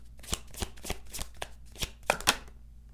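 Tarot deck being shuffled by hand, with quick riffling card slaps in a short burst of about eight crisp strokes, close and fairly quiet, with no voices.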